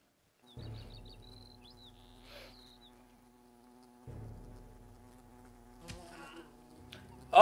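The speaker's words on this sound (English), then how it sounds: "oh, look, there's the wasp on the map." A wasp in the video game Fable Anniversary buzzes with a steady droning hum that swells in two bursts, accompanied by faint chirping game sounds and occasional thuds, with no talk.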